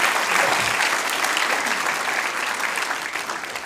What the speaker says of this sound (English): A big loud cheer and Haribol to the kitchen devotees